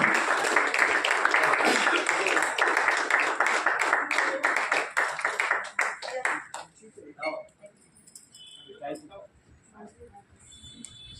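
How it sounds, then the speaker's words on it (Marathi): A hall audience at a Chhava Maratha Sangh education conference in Pimpri Chinchwad claps loudly in a dense, close burst for about six seconds, then it thins to scattered claps and dies away. "सर्वांनी उभं राहून त्यांच्याकरता जोरदार टाळ्या होऊन जाऊ द्या."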